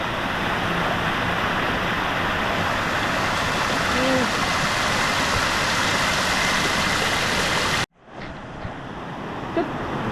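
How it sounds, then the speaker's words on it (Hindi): Cold stream water rushes down a waterfall in the Philippines as a loud, steady, close roar. It cuts off sharply near the end, leaving quieter ambience with faint voices. "पानी फुल फ्लो से नीचे जा रहा है"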